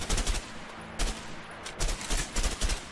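Bursts of gunfire in the co-op prison-break video game A Way Out, several loud volleys of rapid shots separated by short pauses, with no talking over them.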